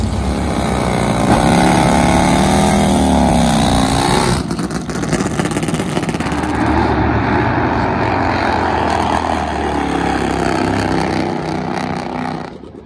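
A 1,000 horsepower Top Fuel nitro Harley drag motorcycle engine roars loudly and close, holding a harsh, sustained blare with a rising pitch before dropping into a rougher, fluctuating drone.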